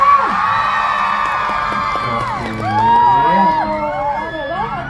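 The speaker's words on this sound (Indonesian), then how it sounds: "Oke, mana tepuk tangannya untuk Zahra?" An audience at a live stage event cheers, whoops and shouts for a contestant, with excited children's voices prominent in a busy, continuous crowd roar that swells around the middle.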